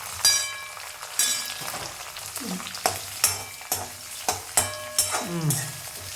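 Sliced onions frying in a pan for shavige upma, a soft sizzle broken by a series of sharp spatula strikes and stirring scrapes roughly every second, close and alone without talk.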